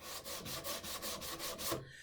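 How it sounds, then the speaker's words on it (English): A sanding block rubs across a wooden workpiece in about eight even back-and-forth strokes, close and quiet, with no talk. "now I can just take a sanding block right to the top"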